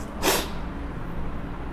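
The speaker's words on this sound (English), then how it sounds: "I have a problem of cold, that's why sneezing sometimes" A single sharp sneeze from a lecturer with a cold, bursting out near the start and then giving way to quiet room tone.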